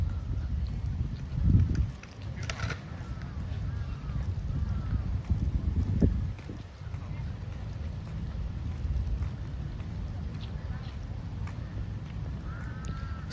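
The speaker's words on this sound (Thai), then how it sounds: "ลมมันพัดมานะทุกคน" Wind blows through Lumpini Park in Bangkok in the evening, a continuous low rumbling buffet against the microphone with a couple of stronger gusts.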